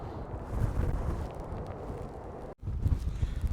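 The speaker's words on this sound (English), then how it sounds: "It's still quite windy," Steady low wind rumble buffeting the microphone aboard a boat in stormy weather, broken by a brief dropout before the gusty roar resumes.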